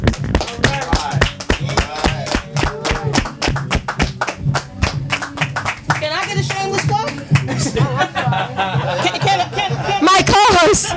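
An audience in a lounge applauds with a burst of brisk, close clapping that gradually gives way to chatter and voices talking over the last claps.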